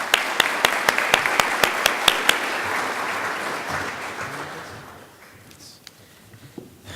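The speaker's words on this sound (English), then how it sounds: "So can we give him a round of applause?" An audience at a cybersecurity summit's executive opening session breaks into dense, lively applause, holding steady for several seconds before thinning out and fading to a few scattered claps.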